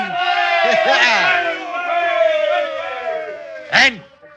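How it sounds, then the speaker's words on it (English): A group of sailor voices in a radio drama raise a rousing cheer together, loud and close, with rising shouts that fade and a final short whoop at the end. "Give a cheer, lads."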